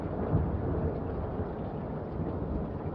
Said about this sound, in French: Les rugissements des nuages emplissent l'espace.